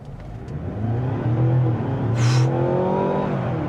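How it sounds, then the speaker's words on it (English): A Mazda CX-90 PHEV plug-in hybrid SUV accelerates at full throttle on a slightly uphill road, its engine note climbing steadily and loud from inside the cabin with a constant rising drone, no talking. "And this time I'm not going to brake torque it, I'm just going to floor it."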